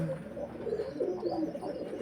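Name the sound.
pigeons cooing in a loft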